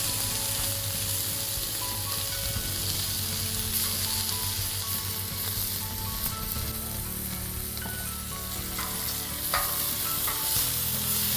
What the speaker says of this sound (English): I'm just gonna sear these.